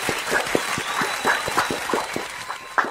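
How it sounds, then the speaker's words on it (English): Audience applause welcoming Gene Simmons onstage, a steady wash of clapping with a few sharper individual claps standing out, loud and close throughout. "Thank you for giving me the clap."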